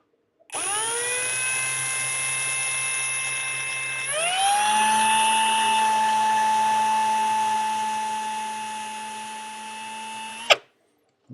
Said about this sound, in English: this is my usual screwing drill